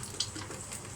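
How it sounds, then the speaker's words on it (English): Egg frying in a pan for chicken and chips, a soft, steady sizzle with small crackles and one brief pop near the start, alone without talk. "I've got an egg frying."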